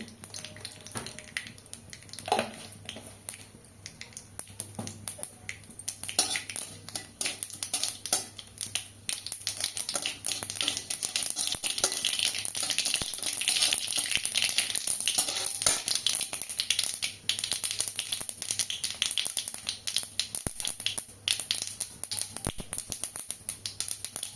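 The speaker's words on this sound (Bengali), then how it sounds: "তেলটা গরম হয়ে গেছে, অল্প করে সর্ষে দিয়ে দেবো" Mustard seeds sizzle and crackle in hot oil for a beet and potato curry, a dense, steady spitting and popping heard up close that continues throughout, with a few brief knocks and no talking.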